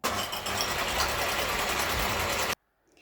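Electric mixer whipping egg whites with a pinch of salt, a steady, loud mechanical whir that stops abruptly near the end, leaving near silence.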